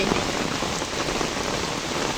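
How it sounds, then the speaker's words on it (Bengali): Heavy rain pours steadily onto surfaces and pooling water during a Bengali early-autumn downpour, a dense, even hiss that holds close and loud throughout with no voices. "দেখেন কত পানি জমছে বৃষ্টিতে অনেক বৃষ্টি অনেক অনেক বৃষ্টি দেখেন"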